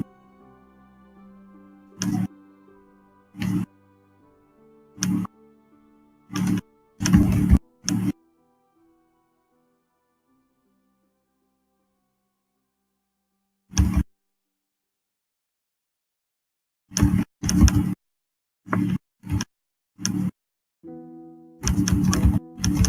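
Bursts of clattering keystrokes on a keyboard, loud and close, arriving in short irregular clusters separated by long silent pauses.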